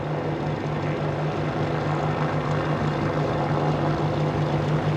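A Boeing 787-9 Dreamliner takes off on its first flight, its jet engines making a steady, loud, broad roar with a low hum underneath that holds for the whole stretch.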